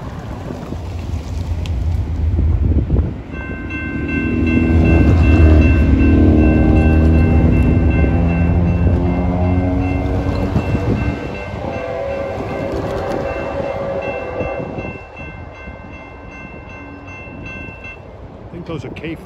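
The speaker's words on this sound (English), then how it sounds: "By the sound of the horn, I'd say he has a newer Gevo locomotive." A Norfolk Southern freight train led by a newer GE Gevo locomotive passes, sounding a loud, sustained multi-note horn with a heavy rumble of engine and wagons that swells and then fades, with some talk in the background.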